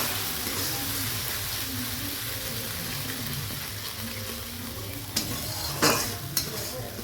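Sliced onion sautéing with ginger and dried red chili paste in a pan for a Bengali rohu fish curry, a constant close sizzle with steady stirring scrapes and a few sharper utensil knocks near the end, no voices.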